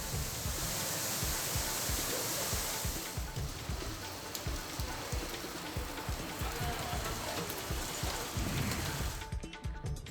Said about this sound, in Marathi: संध्याकाळी मात्र ढग दाटून आले आणि अचानक पाऊस सुरू झाला